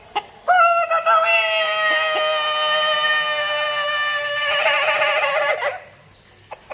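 Ayam Cemani chicken giving a long, loud, drawn-out crow lasting several seconds, with a wavering, strained tone near its end, close to the microphone and followed by quiet.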